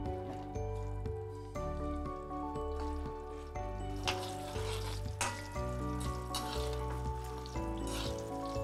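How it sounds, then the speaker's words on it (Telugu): Dried red chillies fry in hot oil for a regu pandla pachadi, giving a soft, continuous sizzle with faint crackles under steady background hum. "దోరగా వేయించుకోవాలి, దోరగా వేయించుకోవాలి."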